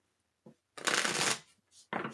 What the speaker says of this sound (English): One more shuffle, please. Cut the deck.